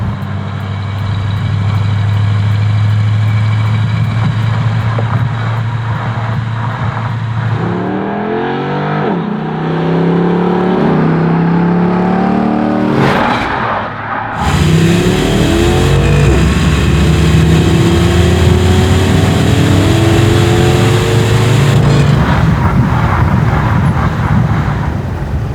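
An LS-swapped, lowered 1963 Lincoln Continental cruising and accelerating, its V8 rumbling steadily before climbing through several rising revs and shifts, loud and close throughout.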